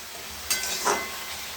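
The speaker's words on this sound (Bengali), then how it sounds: "আলু ভাজা করছি এদিকে, আর এদিকে পুঁই শাক চচ্চড়ি বসিয়েছি।" Potatoes fry in one pan while a Malabar spinach curry cooks in another, giving a low steady hiss with two short bursts of sizzle a moment apart.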